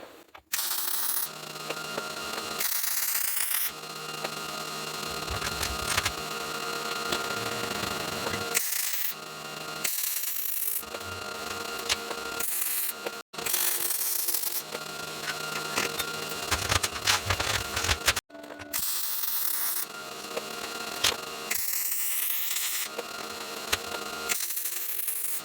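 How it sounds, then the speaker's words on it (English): Welding a DIY steel stand for a three-point-hitch rototiller: a steady crackling buzz of an arc runs in long continuous passes, broken by several short pauses between beads, with no talking. "I'll weld it up."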